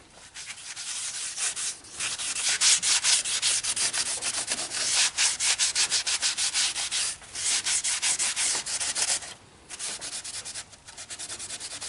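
Wood is sanded by hand close up. Rough, scratchy rubbing strokes come in bursts with short pauses between passes, steady and fairly loud, with no voices.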